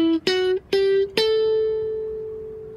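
Guitar plays an ascending A Dorian scale as four plucked notes, each attack sharp and clearly separated, with the last note ringing out long and slowly fading. No talking is heard.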